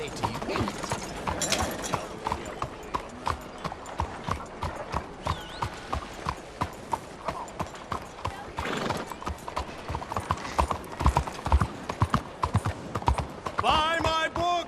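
A horse in Red Dead Redemption 2 with steady clip-clop hoofbeats in a fast, regular rhythm and a whinny near the end, while voices talk over it.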